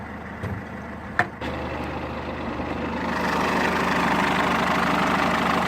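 A 2007 Citroen C4 Picasso 1.6-litre twin-cam 16-valve turbo diesel inline four idles close by with a steady low clatter, a sharp click early on, and the hum rising slightly midway.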